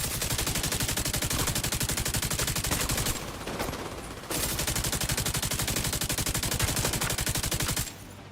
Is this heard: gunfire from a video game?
yes